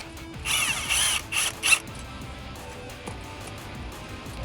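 A ratchet wrench works loose the brackets on a Jeep Wrangler JL frame during a suspension lift install, giving a close burst of quick metallic clicking strokes, then quieter clanks and handling noise.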